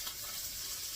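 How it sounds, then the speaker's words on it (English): Spam hotdish sizzles steadily in a pan, a faint, even hiss of frying with no talk over it. "Alright, so now I got this sizzling pretty good."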